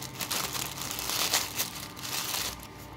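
A small packet of reborn doll accessories is opened and handled, giving steady close crinkling and rustling of thin plastic for about three seconds with no talking.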